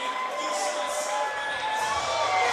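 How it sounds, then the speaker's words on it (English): A crowd at a combat sports fight event cheers and roars in a dense, steady wash of noise that stays loud throughout. "Listen to this crowd. Go crazy."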